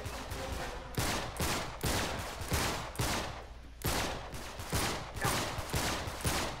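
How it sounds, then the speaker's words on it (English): Enemy gunfire in the Uncharted video game, a run of loud sharp shots in rapid bursts repeating about every second, with no speech over them. "Oh, he was shooting me up there."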